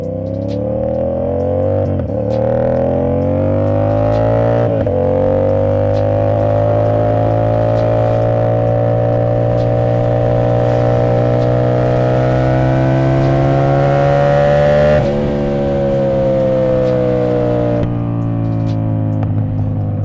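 A tuned car with an aftermarket exhaust revs hard on a full tank, its engine note rising and falling in loud, sustained pulls with sharp exhaust pops and crackles between throttle blips, heard close and alone without talk.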